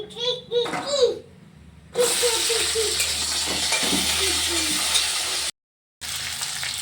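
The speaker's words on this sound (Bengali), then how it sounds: "তো আলুগুলো এখন একটু হালকা করে ভেজে নিচ্ছি।" Potatoes frying lightly in a pan for a thin magur fish curry, a sustained close sizzle after a short stretch of voices, with a brief break near the end.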